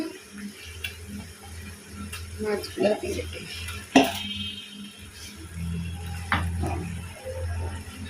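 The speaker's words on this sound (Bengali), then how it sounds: "আদা রসুন হলুদ মরিচ জিরা লবণ সব দিয়ে মশলাটাকে ভালো করে কষায় নেব" A spice paste of ginger, garlic, turmeric, chilli, cumin and salt with browned onion fries in a pan. It gives a low sizzle under uneven scraping and stirring strokes, with a sharp clatter near the middle.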